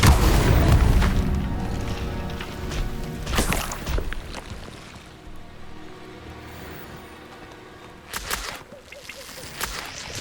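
Incendio fire spell explosions in the Hogwarts Legacy video game: a loud booming burst at the start, another around the middle and a third near the end, over a continuous rumbling game soundscape.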